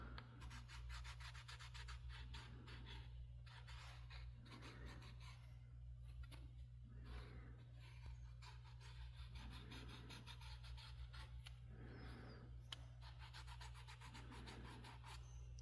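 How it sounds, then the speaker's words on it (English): Leather belt loop key chain being burnished, a soft repeated rubbing with rhythmic strokes about every second, faint and close, over a low steady hum. "We are going to finally burnish."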